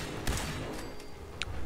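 Gunshot in the video game Fallout 4, a single sharp blast near the start followed by a brief metallic ring, heard over a steady game background hum.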